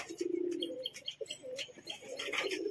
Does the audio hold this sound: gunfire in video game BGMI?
no